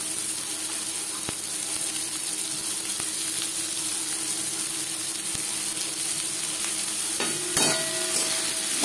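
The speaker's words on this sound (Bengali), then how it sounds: "ফোড়নের সাথে পেঁয়াজ বেশ ভালো করে মিক্স করে দেবো। পেঁয়াজ লালচে করে ভেজে নেব।" Chopped onions fry steadily in hot oil with whole-spice tempering for a masoor dal, a continuous sizzle with occasional stirring clicks and scrapes, close and even throughout with no talking.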